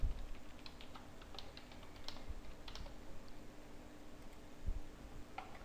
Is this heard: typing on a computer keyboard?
yes